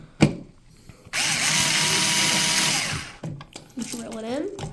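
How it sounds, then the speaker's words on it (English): A power drill whirs for about two seconds, its pitch rising and dropping as it drives a screw into a light switch box, with a brief second burst and some quiet talk around it. "Drill it in."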